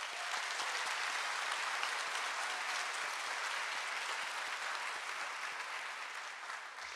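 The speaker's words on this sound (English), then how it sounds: "Let's give them a round of applause" Applause at a high school graduation ceremony, a sustained, even roar of many hands clapping, fairly distant and soft, that continues unbroken and tapers slightly near the end.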